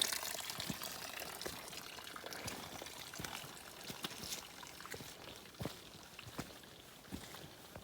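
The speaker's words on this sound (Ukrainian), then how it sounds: "ми вийшли ось на таке джерело" Water trickling from a small mountain spring on a Carpathian ridge trail, a quiet steady outdoor burble with faint scattered splashes and occasional crunching steps nearby.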